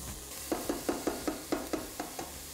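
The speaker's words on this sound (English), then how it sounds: "I'm gonna add some olive oil, 1 diced sweet medium onion." Diced sweet onion sizzles in hot olive oil in a pan, with a steady frying hiss and a run of regular, evenly spaced stirring scrapes close by, no talking.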